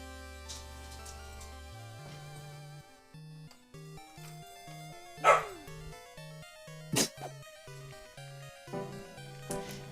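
A dog barks indoors from a bedroom, with a few sharp, loud bursts standing out over steady background music and tones.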